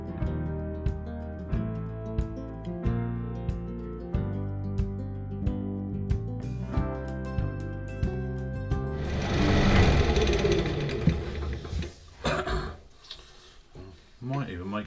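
A wood lathe turning a box lid gives a regular rhythmic thumping hum, then a burst of loud scraping as a tool cuts into the spinning wood, followed by quieter intermittent cutting.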